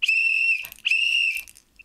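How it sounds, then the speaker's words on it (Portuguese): Referee whistle blown for halftime during a sports podcast, two sharp shrill blasts in quick succession, loud and close, with no talk over them. "Ucra, vamos só apitar para o intervalo, já voltamos a ti"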